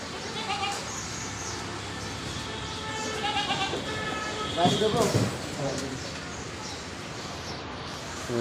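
Goats bleat at a Bangladeshi livestock market, several near calls rising over busy crowd noise and ongoing talk.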